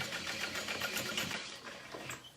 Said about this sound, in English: I just kind of pull my thread back through my machine to where it's stopped, and I'll backstitch.